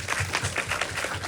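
A short burst of applause from an audience at a short-film screening Q&A, dense clapping that holds steady throughout.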